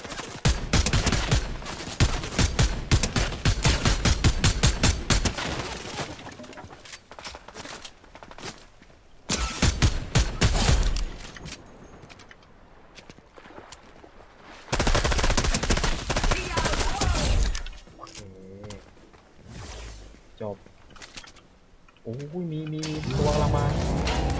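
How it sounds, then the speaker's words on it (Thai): Fortnite battle royale gunfire erupts in repeated rapid bursts and scattered shots, loud and close, broken by quieter stretches where someone talks excitedly over the game sound. "มันยิงกันมันมากเลยเมืองนี้"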